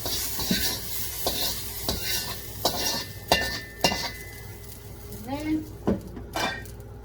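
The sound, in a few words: stir-frying rehydrated dehydrated vegetables in a pan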